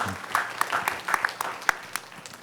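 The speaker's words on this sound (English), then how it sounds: "They all deserve a round of the applause" Audience at a union delegate assembly meeting applauds, a steady patter of clapping with scattered sharper claps, moderately distant and fairly quiet, with no talk over it.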